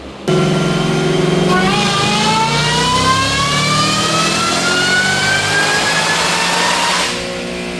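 Supercharged Roush car engine on a dyno pull, loud and close, revving steadily upward in pitch for several seconds with supercharger whine before dropping back to idle.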